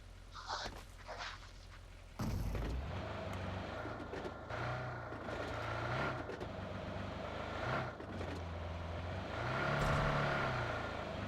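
A vehicle engine in the video game BGMI rumbles steadily and fairly faintly, rising and falling with acceleration as it drives along after a sudden louder start.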